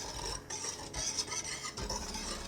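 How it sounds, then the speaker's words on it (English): A whisk scrapes and swishes steadily through flour and salt in a bowl, a continuous close rustling broken by brief pauses. "Whisk it up."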